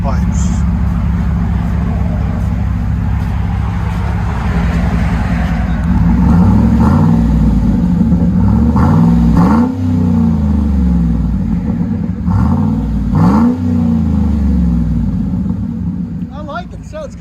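2012 Chevy Silverado LS pickup with a 5.3L V8 and Carven R-Series side-pipe exhaust, deep rumbling idle broken by several strong revs that rise and fall back, loud and close for the whole stretch.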